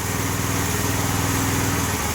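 A small Predator gasoline engine on a log splitter runs steadily at idle until it runs out of gas, a loud close chugging drone with a fast regular pulse throughout.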